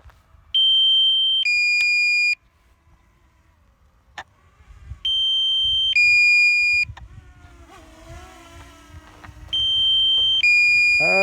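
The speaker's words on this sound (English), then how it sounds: "That beep is awful annoying." Warning beep from a DJI Mini 2 drone controller during a flight at the Snake River Canyon, a loud two-tone electronic alert repeating in three separate bursts with quiet gaps between them.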